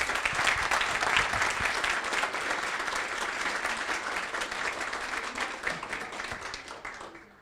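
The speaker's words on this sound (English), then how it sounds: "Can I please have a big round of applause for all my sponsors?" A large audience at a safety symposium gives a big round of applause for the sponsors, dense sustained clapping that stays steady and then fades at the end.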